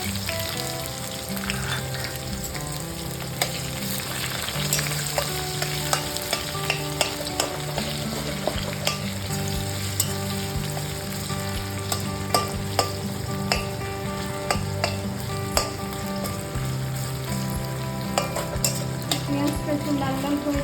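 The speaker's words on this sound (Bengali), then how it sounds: "এবার আমি পেঁয়াজ কুচি দেবো।" Chopped onions sizzle steadily in hot oil in a pan as chicken biryani is prepared at home, with frequent scraping stirs and crackling pops over a constant, close frying hiss that runs without pause.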